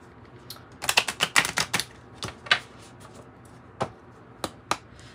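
Tarot cards shuffled by hand at close range: a quick cluster of crisp papery snaps and flicks, followed by a few isolated taps, with no talking.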